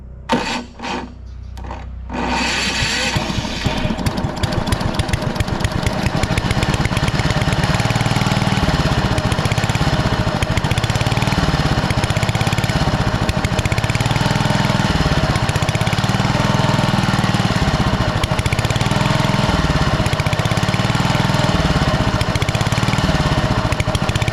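A Honda HR215K push lawn mower engine catches after a brief sputter and runs steadily, loud and close, a continuous throaty drone with a rough, rasping texture.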